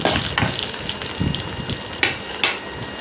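Onion, dried red chillies and garlic cloves frying in a pan for onion chutney, a steady close sizzle broken by several sharp stirring scrapes and clicks of the spoon against the pan.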